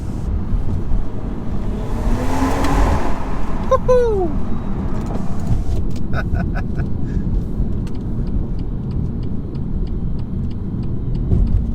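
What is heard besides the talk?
BMW M140i engine driving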